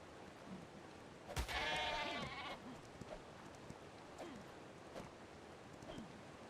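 A baby sheep in ARK Survival Ascended gives one short, clear bleat. A few faint rustles and soft game noises follow, and no one speaks.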